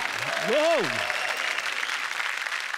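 Steady, loud applause from a studio audience at a Marathi comedy show fills the stretch, with a short spoken phrase cutting across it near the beginning.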